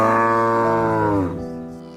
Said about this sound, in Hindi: तभी बारिश थोड़ी रुकती है और उनके गाय कपिला जोर से रंभाने लगती है।